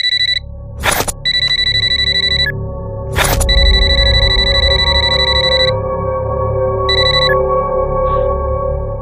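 A phone ringtone plays loud and close, a repeating electronic melody in several bursts with brief pauses between them, alone without talk.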